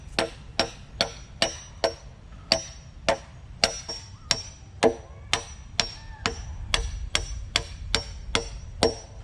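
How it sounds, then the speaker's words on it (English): Sharp hammer blows drive a playground border into place, about eighteen evenly spaced, close and loud knocks in a steady rhythm. "you want to make sure it's in before you start hammering away"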